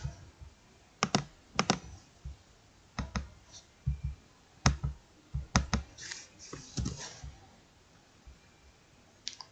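Computer keyboard and mouse clicks while working in Microsoft Word: sparse, irregular taps and clicks in small clusters, close and crisp against a quiet background, with no talking.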